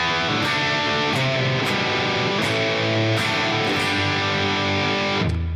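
A heavily distorted electric guitar plays the pre-chorus of a song, with thick sustained chords and rhythmic chugging, loud and close with no talk, ending in a sharp cutoff.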